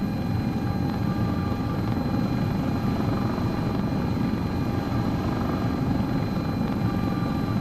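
Sikorsky S-76C++ helicopter in a flight simulator game, a steady, dense rotor and engine drone at constant loudness with no talk over it.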